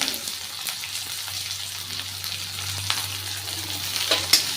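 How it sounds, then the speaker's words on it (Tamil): Onion frying in oil with ginger, green chili and curry leaves for ragi kozhukattai, a steady close sizzle with occasional stirring scrapes and small pops, no talking. "இஞ்சி பச்சை மிளகா கருகப்பில்லை கட் பண்ண ஆனியன் போட்டுக்கிறேன்"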